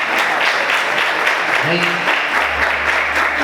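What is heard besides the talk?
congregation applauding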